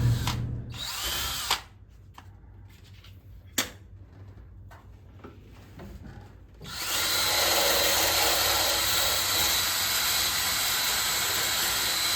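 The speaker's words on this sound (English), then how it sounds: "I'm gonna grind this all down and smooth it out" An angle grinder smooths welds on a 1979 Ford F100 truck frame: first broken, stuttering bursts of grinding against steel, then a loud continuous high whine that holds steady to the end.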